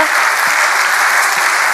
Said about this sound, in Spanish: vamos a darle un aplauso acá a Sergio